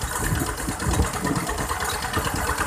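A small-engine water pump runs steadily, pumping water into a rice paddy, with a close, rapid chugging idle and vibration under outdoor ambience.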